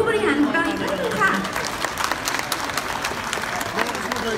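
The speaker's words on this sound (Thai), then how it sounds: "ปรบมือกับผู้บริหารของเราด้วยค่ะ" Audience applause for company executives at a Pocari Sweat Thailand presenter launch event, dense clapping throughout with a few cheers and a voice over the start, steady and fairly loud.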